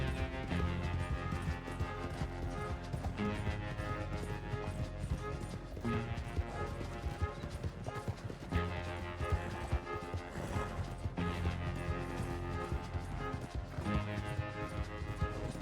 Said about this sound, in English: There's horses coming.